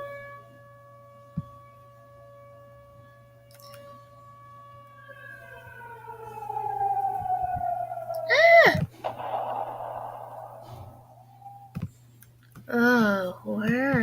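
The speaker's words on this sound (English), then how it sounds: "Oh no, the bomb siren's going off already." In the Animal Jam video game, a bomb siren wails with a slowly sliding, falling tone over a steady low hum, followed by clicks and bursts of warbling game sounds; a voice talks over parts of it.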